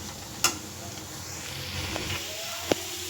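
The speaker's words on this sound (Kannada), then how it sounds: "ಅರಿಶಿಣದ ಪುಡಿ, ಖಾರದ ಪುಡಿ ಚೆನ್ನಾಗಿ ಈರುಳ್ಳಿ ಜೊತೆ ಫ್ರೈ ಆಗಿದೆ" Onion with turmeric and chili powder frying in a pan for bendekai palya, a steady soft sizzle throughout, with a couple of sharp utensil clicks or scrapes standing out.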